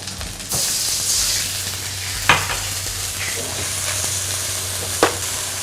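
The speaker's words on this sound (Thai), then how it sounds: "เอาละกะปิเราผัด กับกระเทียมที่ผัดหอมแล้ว" Shrimp paste and garlic stir-fry in a hot pan, giving a steady loud sizzle with sharp scraping clacks of a utensil against the pan at a few moments, close and without talk.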